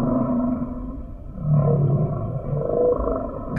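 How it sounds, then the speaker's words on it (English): Humpback whale song in the open ocean: low, drawn-out moaning calls that rise and fall, loud and close, with no voices over them. "The whales in different oceans have different songs."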